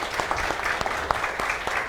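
A small audience applauds at a gathering, a brief burst of steady mixed clapping heard at moderate level throughout.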